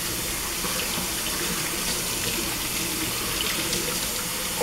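Running tap water pours steadily and close by, rinsing a Yorkie's coat during a bath, a continuous gushing splash with no talking.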